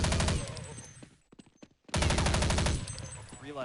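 Rapid automatic gunfire from the Counter-Strike 1.0 video game fills the clip in loud, dense bursts, broken by a short pause with a few single shots before the sustained fire resumes.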